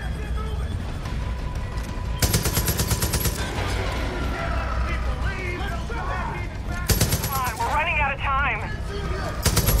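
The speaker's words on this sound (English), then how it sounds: "I'm gonna use your machine gun to destroy all this shit" Machine gun fire bursts loudly in Far Cry 5, sustained rapid volleys in two long stretches amid battle noise, while a player talks and exclaims excitedly throughout.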